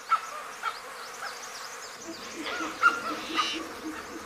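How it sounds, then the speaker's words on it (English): Clouds of flies and other insects buzzing after the monsoon in Gir National Park, a faint, thin wavering drone with a few brief sharp calls and chirps over a quiet outdoor background. "Post-monsoon flush brings clouds of insects. For some, the flies are a torment."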